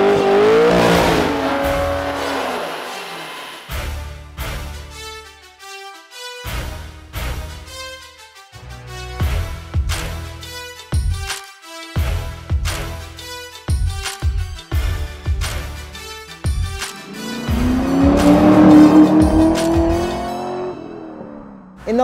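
A C6 Z06 Corvette V8 revs hard through repeated gear changes, with loud engine sweeps punctuated by quick shifts, rising and falling in pitch and building to sustained acceleration near the end.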